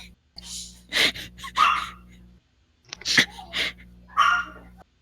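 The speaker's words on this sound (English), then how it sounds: "The dog is barking." A dog barks in two separate bursts of several sharp, loud barks each, close to the microphone, with a brief silence between them over a low steady hum.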